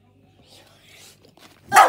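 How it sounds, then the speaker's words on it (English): A single loud, close dog bark bursts out near the end, after a stretch of quiet low background sound. "That's my doggy Poppy."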